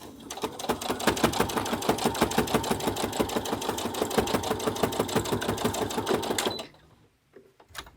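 A long arm quilting machine stitches a Kantha quilt at regular stitch length, a loud, fast, even mechanical chatter running for several seconds before stopping abruptly, followed by a few faint clicks.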